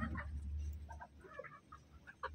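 A chicken clucks in short, soft bursts close by, a quiet series of choppy calls over low rumbling background noise, with no talk over it.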